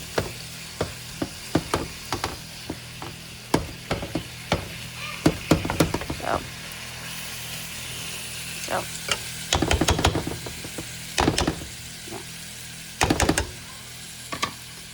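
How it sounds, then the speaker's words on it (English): Ground beef browns in a pan for a casserole, a low sizzle under repeated sharp scrapes and clacks of a utensil breaking up the meat, irregular bursts close to the ear, no talking. "So We're still working on the ground beef here."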